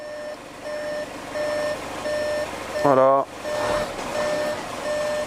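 A car's reversing alarm beeps in a slow, regular rhythm, loud and close, briefly interrupted by a short word spoken midway, as a car with a DSG gearbox backs up in a garage during a gearbox oil change.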